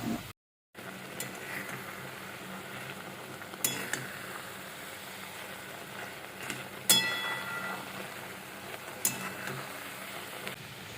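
Loitta fish chorchori is stirred and fried in a pan: a soft, steady sizzle with a few sharp clicks of the utensil against the pan, quiet throughout.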